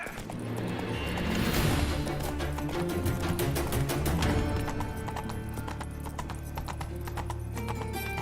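Roach the horse gallops in Witcher 3, steady rapid hoofbeats clip-clopping loudly throughout with a brief whinny, set against game music and ambient sound.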